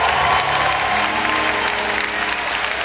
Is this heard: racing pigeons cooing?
no